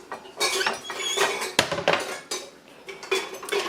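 A cup is pulled from a kitchen dish rack, with a quick run of close clinks, clatters and knocks of dishes and cutlery shifting against each other.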